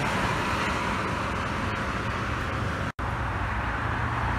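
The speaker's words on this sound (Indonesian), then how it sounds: "Laju prima bus pertama yang lewat." A Laju Prima bus passes along the road near a highway rest area, a steady broad roar of tyres and engine amid traffic noise, cut by a brief dropout near the end.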